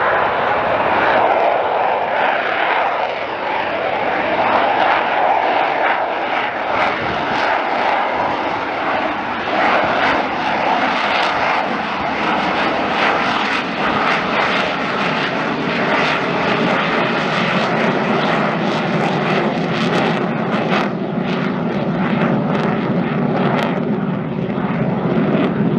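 An Italian Air Force aerobatic jet display at RIAT 2024 produces a loud, sustained roar of jet engines that fills the air without a break, with faint crowd voices underneath.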